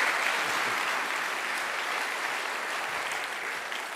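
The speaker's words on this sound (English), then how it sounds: "So please, a big round of applause for Mark Bello." Sustained applause from an event audience welcoming a speaker to the stage, a dense, steady crowd clapping that holds at an even, fairly loud level throughout with no talking over it.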